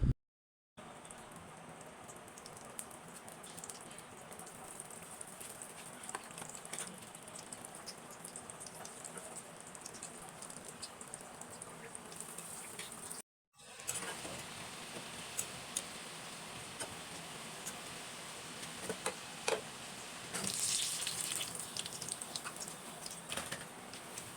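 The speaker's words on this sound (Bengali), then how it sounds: "তারপরে এই পিঠাগুলা আর কি সুন্দর করে তেলে ভেজে নিতে হবে।" Pitha cakes frying in hot oil, a steady close sizzle and fine crackling patter that runs on without pause apart from one brief break in the middle.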